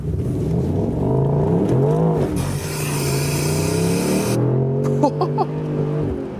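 A Mercedes-AMG SL63 with all-wheel drive accelerates hard in Sport Plus mode, its engine note climbing loudly and steadily through the gears, then a shift and a few sharp crackles near the end.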